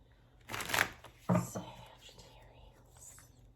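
Tarot cards shuffled in two quick riffling bursts, the second sharper, followed by faint soft handling, with quiet whispery breath noise nearby.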